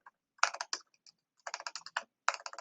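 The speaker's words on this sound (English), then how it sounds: "I'm going to type it correctly." Typing on a computer keyboard while filling in a profile page: quick, close, crisp keystrokes in three clusters separated by short pauses, heard alone with no voices.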